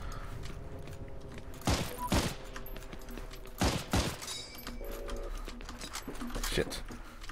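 Gunfire crackles in Heroes & Generals, paired shots and short volleys ringing out at intervals over a busy background of mechanical rattles, with someone talking throughout.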